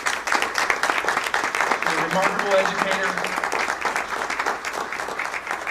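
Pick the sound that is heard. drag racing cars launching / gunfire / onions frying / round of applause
round of applause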